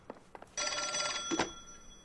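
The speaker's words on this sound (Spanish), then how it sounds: "Responde al teléfono." A telephone rings with a bright, sustained electric bell in the video game L.A. Noire. One long ring starts about halfway in and carries loudly to the end, preceded by a few short knocks or taps.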